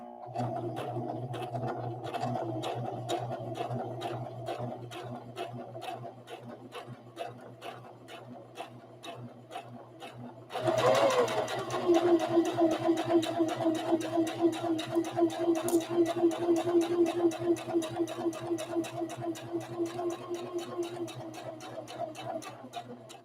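A sewing machine stitches rag doll fabric in a steady, rapid mechanical rhythm, briefly pausing before running on faster and louder.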